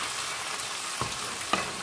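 Sweet and sour fish being stirred in a frying pan: an even, close sizzle runs throughout, broken by two sharp utensil scrapes against the pan.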